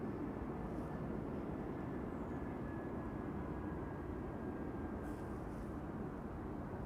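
Airliner engines roar in a steady, distant broadband drone at Amsterdam Schiphol Airport during departures, with a faint high whine running through and no voices.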